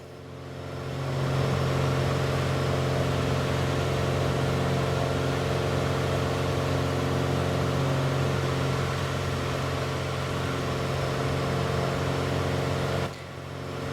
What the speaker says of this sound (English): Just going to back right off the throttle right now.